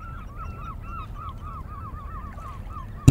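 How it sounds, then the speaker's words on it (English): Swans calling across a fjord early in the morning, a flock giving repeated honking notes in a loose, uneven series at moderate distance, with a sudden thump at the very end. "It was early in the morning that they sailed into a fjord full of swans."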